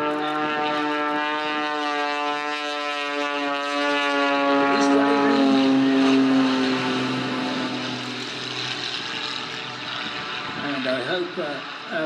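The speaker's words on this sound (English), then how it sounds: "Now he's throttling like mad to keep it slow." A Pitts Special aerobatic biplane at an air display at Weston Park, its engine drone rising and falling as it throttles hard to stay slow, loud and continuous with a shifting pitch; a commentator talks over it.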